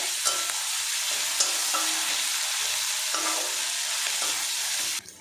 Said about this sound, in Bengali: এবার এর মধ্যে 1 চামচ পরিমাণে আদা রসুন পেস্ট দিয়ে দিলাম। একসঙ্গে এটা ভাজা ভাজা করে নেব।